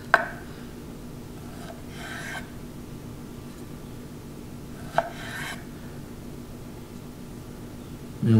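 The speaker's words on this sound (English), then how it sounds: "So I'm just going to cut this trout fillet into really thin slices." A knife slices a trout fillet into thin slices for sushi, giving two faint, brief rasping strokes over a low steady background hum, with no talking.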